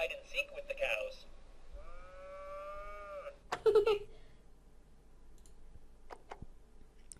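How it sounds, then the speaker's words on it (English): In the video game That Dragon, Cancer, cartoonish cows let out a few short, drawn-out moos between sharp game clicks, with a person speaking briefly at the start and a quiet background hum. "Farmer Bill plays hide and seek with the cows."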